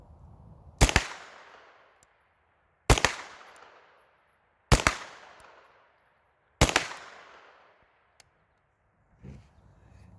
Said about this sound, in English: So we'll just shoot some rounds at the target.